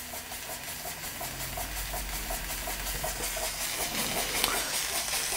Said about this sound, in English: Weeden 38 under steam for the first time.